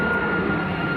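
A Ryanair Boeing 737-8 MAX jet airliner rotating on takeoff at Manchester Airport gives off a steady loud roar with a sustained whining tone, heard alone in a brief burst.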